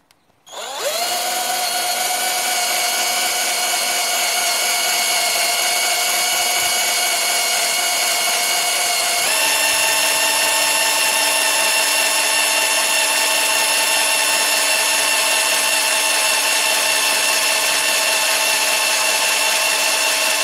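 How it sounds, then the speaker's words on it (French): A power drill, held with both hands, bores out the bearing ring on a rear Dana 44 axle of a 1999–2004 Jeep WJ. It gives a loud, steady, high whine that runs without a break and shifts pitch slightly partway through. "je vais commencer à percer à deux mains du coup"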